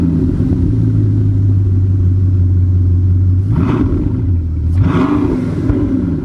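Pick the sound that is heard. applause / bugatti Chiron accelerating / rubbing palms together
bugatti Chiron accelerating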